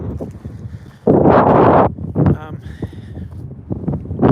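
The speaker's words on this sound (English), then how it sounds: "It's windy for sure." Wind gusting across an open field, a loud rushing blast of microphone wind noise surging midway, with a person talking over and around it.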